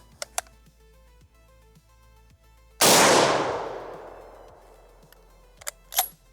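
A single loud, close rifle shot from an RTI Lee-Enfield B-Grade rifle cracks out and rings down over a few seconds. Faint mechanical clicks come just before and after it.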